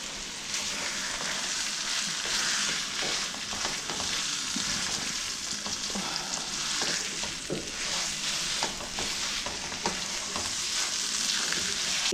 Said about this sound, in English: I'm browning my pork